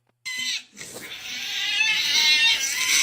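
A house cat named Spacey lets out a long, loud, strained cry that breaks briefly, then swells into a sustained wailing yowl that holds steady to the end.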